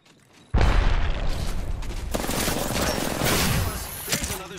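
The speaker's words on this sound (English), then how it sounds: "Incoming grenade." A grenade blast in the Apex Legends video game, a sudden loud boom that rolls straight into a dense fusillade of gunfire and mechanical clatter, sustained and close for several seconds.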